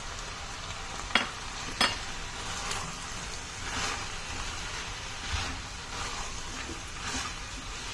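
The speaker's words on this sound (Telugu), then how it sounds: "చక్కగా అన్నీ కలిసేటట్టు, ఈవెన్గా కలిసేటట్టు మనం కలుపుకోవాలి." Potato, chickpea and tomato capsicum masala curry stirred in a pan, a soft, low sizzle with a few sharp scrapes early on and gentle intermittent stirring strokes, fairly quiet and without talk.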